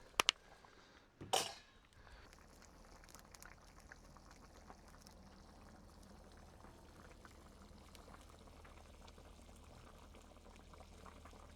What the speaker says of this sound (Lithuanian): Verda mūsų zervakas.